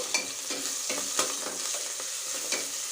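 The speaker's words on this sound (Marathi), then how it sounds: "अदरक लसणाची पेस्ट आणि जिरा छान परतून घ्यायचं तेलामध्ये" Ginger-garlic paste and cumin frying in oil in a pan, a steady close sizzle with soft rhythmic stirring scrapes and no voices.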